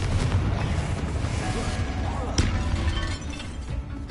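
Confringo spell explosions in Hogwarts Legacy, a series of booming blasts and sharp cracks over continuous game noise, one sharp burst standing out midway, with a voice heard at times.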